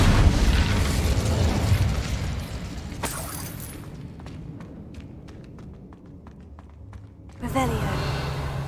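An Incendio fire spell in Hogwarts Legacy erupts in a loud, dense blast for the first few seconds, followed by a sharp crack and scattered crackling pops as it dies down, then a fresh swell of sound near the end.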